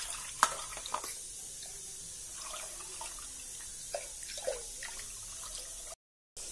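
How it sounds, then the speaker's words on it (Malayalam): Water trickles into a cooking pot while finger millet payasam is being made, heard as faint, uneven splashing and dripping with a few sharper drops, fairly quiet and close, before a brief cutout near the end. "നമ്മൾ കുറച്ചും കൂടി വെള്ളം ഒഴിക്കണം"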